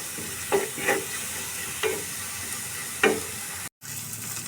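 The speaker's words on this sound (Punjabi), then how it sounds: "ਪਿਆਜ਼ ਨੂੰ ਆਪਾਂ ਇੰਨਾ ਕਿ ਭੁੰਨਣਾ ਹੈ" Onions frying in a pan for a Punjabi-style shahi paneer gravy, a steady broad sizzle with several stirring scrapes at irregular intervals and a brief dropout near the end.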